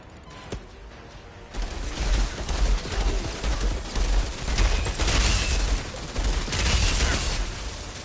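Enemy gunfire in the Outriders video game: dense, continuous shooting and impacts that swell into several loud bursts, filling most of the clip after a quieter opening.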